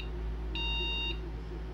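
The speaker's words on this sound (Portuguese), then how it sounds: "4 bips, galera. O que, que deve ser?" A computer motherboard sounds four error beeps at startup, one clear continuous electronic tone heard alone over a low hum, with no speech.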